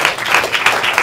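Audience applause after a conference talk, a dense, even patter of many hands clapping indoors, loud and close, lasting only about a second.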